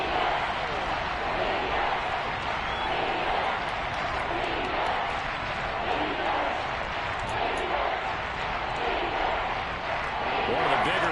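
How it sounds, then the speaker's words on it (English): A stadium crowd roars steadily at an NFL game between the Chargers and Texans ahead of a big third down, a dense constant wash of cheering and noise under commentary. "The crowd getting into it as we come up on a big 3rd down."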